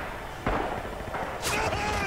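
A couple of sharp gunshot cracks from the video game Rising Storm, one early and a brighter one near the end, under ongoing background noise.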